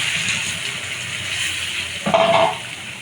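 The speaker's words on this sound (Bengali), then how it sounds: "তেলের মধ্যে আমি এখন আলুগুলো ঢেলে দিচ্ছি" Potatoes tipped into hot oil fry with a steady, close sizzling hiss, and a louder burst of spitting and crackling flares up briefly near the end.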